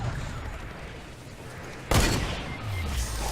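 Fortnite video game gunfire, a sudden loud burst of shots partway through, heard over a busy game soundscape with no talk.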